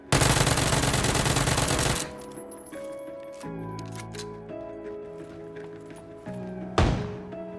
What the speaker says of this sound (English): Hearing a guy firing a shotgun very close to me